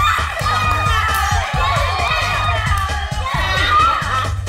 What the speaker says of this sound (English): they start shouting and hooting like crazy cows